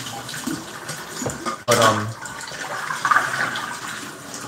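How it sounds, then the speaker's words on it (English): Tap water running into a sink or basin in a home kitchen, a steady splashing gush that surges briefly partway through, with a voice speaking over it. "I hope the water's not too loud."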